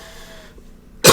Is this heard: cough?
yes